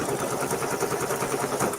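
A sewing machine stitches a tack-down line on a mini quilt block, running fast and steady with a rapid, even mechanical rhythm, close and alone.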